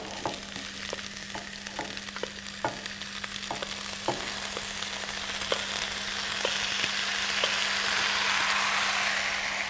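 Butternut frying with golden brown onions in a pot for butternut soup, a steady close sizzle broken by a string of sharp spoon clicks against the pot, the sizzle growing brighter and louder toward the end.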